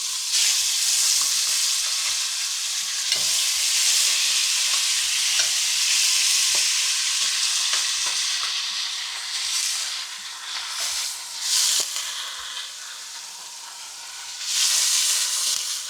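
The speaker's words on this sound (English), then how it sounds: "we are going to add in with oxtail now" Oxtail sizzles loudly in a hot pot while being stirred, a dense continuous frying hiss with scattered scrape and clink sounds, easing briefly before surging again, heard up close without speech.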